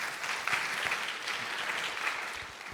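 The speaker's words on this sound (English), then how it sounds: "Give him a round of applause." An audience claps steadily at a crypto startup pitch event, a dense wash of applause that holds at an even level before easing slightly at the end.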